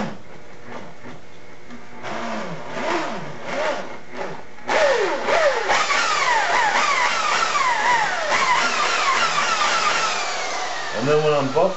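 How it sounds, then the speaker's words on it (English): A rotary buffer polishes the paint of a 2001 Buick Century with cutting compound. The machine whines and shifts in pitch in repeated sweeps, loud and close, with quieter stretches before it settles into continuous running. "I'm buffing in to my blend right now because I'm trying to cut that edge with this cutting compound"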